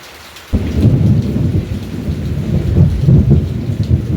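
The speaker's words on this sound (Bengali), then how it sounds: "এত সুন্দর বৃষ্টি পড়ছে" Heavy monsoon rain pours steadily after a sudden onset, with deep rumbling thunder from lightning strikes rolling underneath throughout, loud and close, heard from inside a house.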